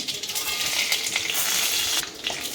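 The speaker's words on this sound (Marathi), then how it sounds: "खडे मसाले चांगले परतून घ्यायचे" Whole spices sizzle in hot oil for vegetable pulao: a loud, continuous crackling fry up close, with a brief shift in intensity partway through as they are stirred, and no voices.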